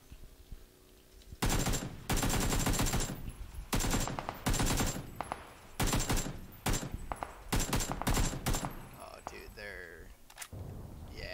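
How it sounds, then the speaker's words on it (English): Gunfire in PUBG on Xbox One, with repeated bursts of shots and sustained volleys coming from a distance near a bridge and a hill, mixed with rapid fire and some quieter gaps. "Is there someone on the hill shooting him?"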